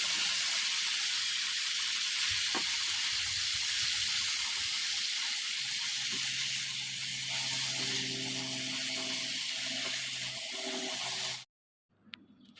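Malabar spinach (pui shak) cooking in a pan gives off a steady broadband hiss and sizzle that runs continuously at moderate level with faint background hum, then cuts off abruptly near the end.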